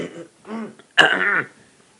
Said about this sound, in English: I'm the one who's like coughing like a storm.